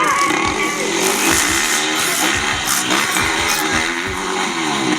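A dirt bike engine with a stuck throttle on a homemade track, loud and close, roaring at high revs with a rough steady drone and small rhythmic surges throughout.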